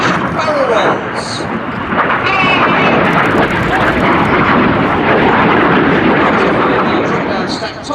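Red Arrows jets roar loudly through a formation manoeuvre at an airshow, a continuous broad engine rush filling the whole clip, with a commentator talking over it.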